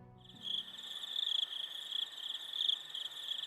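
Crickets chirp in a shrill, steady, pulsing trill that starts after a brief quiet moment and carries on evenly throughout, fairly close and alone against a near-silent background.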